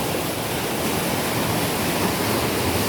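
Forceful water rushes continuously through the East Race Waterway on the St. Joe River, a loud, dense, unbroken roar with no voices.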